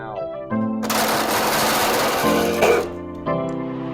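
A power drill spins up and a 1.5 inch hole saw cuts a hood pin hole through a car hood, giving a steady loud grinding whir for about two seconds before the motor winds down.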